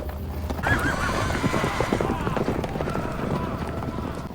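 A horse in a Game of Thrones scene in the Dothraki city whinnies loudly while its hooves clip-clop steadily, with voices talking over the scene.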